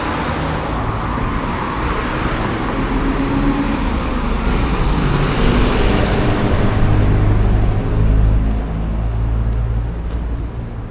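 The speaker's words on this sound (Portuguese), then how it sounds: "Aí, olha só, todo o som da cidade." Night traffic on a city street in Foz do Iguaçu rumbles past steadily, with cars and a heavier vehicle swelling louder around the middle before easing off, a continuous urban roar with no speech.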